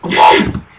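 A single short, gritty synth bass growl made in Massive, loud and close, swelling quickly and fading in under a second.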